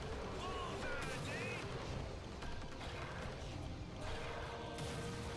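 Gunfire blasts at a creature in the GameCube game Beyond Good & Evil, with short explosive bursts scattered among faint game effects and background voices.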